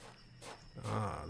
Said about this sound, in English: I think I hear other footprints apart from my own.